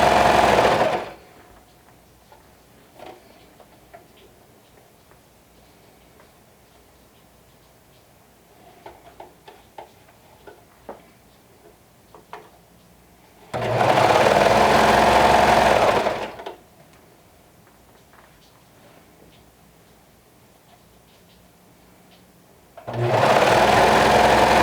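Serger sewing machine stitching through fabric in two loud, steady bursts of rapid whirring separated by quiet stretches with faint handling clicks, plus a brief burst at the start and end.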